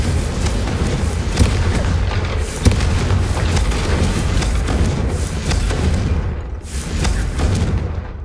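Confringo and Incendio spell blasts in the Hogwarts Legacy video game burst out as a few loud booming impacts over a dense, roaring rush of fiery noise, with sharp pops near the middle and a brief dip near the end.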